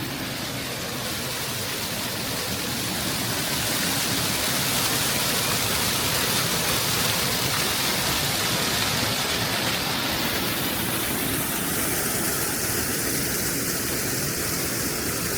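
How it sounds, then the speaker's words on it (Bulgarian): The small Hotnitsa waterfall near Veliko Tarnovo, a cascade into blue-green pools, gives a constant broadband rushing of falling water, steady and fairly close, with no voices. "Ето едно от водопадчетата."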